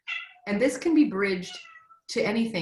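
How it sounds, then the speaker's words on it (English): A house cat meows several times in drawn-out, rising and falling cries, close and clear, while a person speaks over and between the calls. "that's my cat weighing in"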